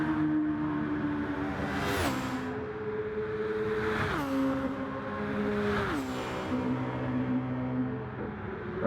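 Race cars in a racing video game on a Tokyo circuit, engines droning loudly and steadily with three rising-and-falling revs as gears shift, one car's whine close with another just behind.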